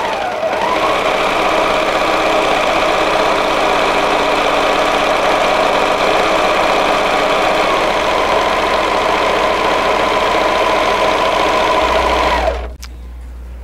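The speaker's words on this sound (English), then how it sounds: "it cuts the fabric plus it sews the edge," Serger sewing machine trimming fabric and overlocking the edge, a loud continuous rapid mechanical hum and clatter running steadily for about twelve seconds before cutting off.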